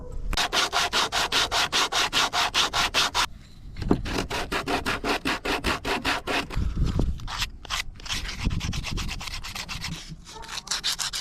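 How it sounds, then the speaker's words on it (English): Sandpaper, 100 grit, is rubbed back and forth on scrap wood in quick, regular strokes, close up, with a few short pauses between bursts of sanding. "get some 100 grit sandpaper, sand off the bottom where we cut it from the lid"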